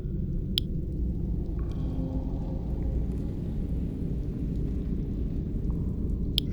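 Steady rain and low rumbling thunder in the retro dungeon crawler game Secret of Weepstone, a continuous dense hiss over a deep rumble with a few sharp ticks, even and moderately loud throughout.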